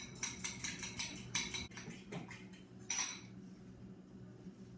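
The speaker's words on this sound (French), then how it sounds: "seulement pour qu'on ça mélange la claire d'œuf avec le jaune d'œuf" Egg whites and yolks are beaten together in a bowl with a utensil, giving a quick run of bright clinking taps against the dish in short bursts, then a pause and one more flurry before it goes quiet.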